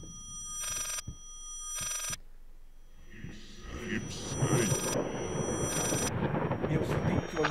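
An old telephone rings in the horror video game Layers of Fear: two short, loud bell bursts with pauses between them, then an eerie swelling rumble as a person starts talking over it.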